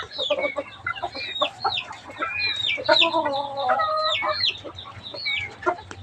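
Texas gamefowl chickens, some recovering from colds, clucking and calling steadily and close by in a farm setting, with repeated overlapping clucks and a faint crow-like call under a low background hum.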